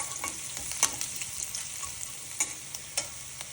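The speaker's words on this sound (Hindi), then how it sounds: "अदरक को थोड़ा 30 सेकंड हम पका लेंगे ताकि उसकी कच्ची महक चली जाए" Ginger frying in a pan, a soft steady sizzle with occasional stirring scrapes and light clicks, fairly quiet and close, no voices.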